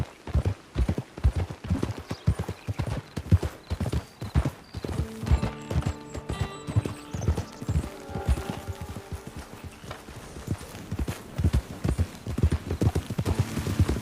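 Horse hooves clip-clopping in the video game Red Dead Online, a steady rapid rhythm of hoofbeats throughout, with a passing tonal musical or ambient layer in the middle.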